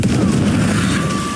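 A Confringo blasting spell goes off in Hogwarts Legacy as one loud, close fiery explosion with a heavy booming rumble that lingers briefly.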